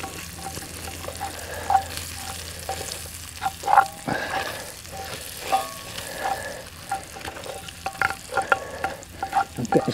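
Bacon frying in oil inside a Dutch oven set over an open fire, a steady crackling sizzle with intermittent scraping stirs and clinks of utensils, close and moderately loud, no talking.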